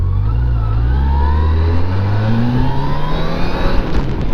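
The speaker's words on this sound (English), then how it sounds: "This bike just moves. You twist the throttle." A Yamaha FJR1300 motorcycle accelerating hard as the throttle is twisted, a loud, close engine note rising steadily in pitch without a break, with wind roar underneath.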